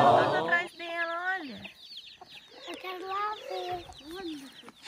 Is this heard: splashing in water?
no